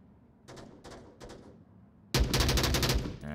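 Gunfire in the VR shooter game Onward during a competitive team match: three quick bursts of shots, then a louder, sustained volley of rapid fire up close to the end.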